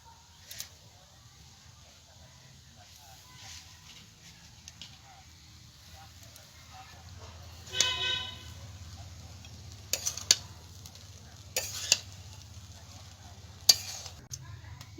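Chira pulao with ghee sprinkled on top sizzles softly in a pan, with a low steady frying hiss, scattered stirring clicks and scrapes, and a few sharp utensil taps, while a voice talks intermittently.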